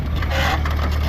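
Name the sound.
corn planter wheel rubbing the double disc opener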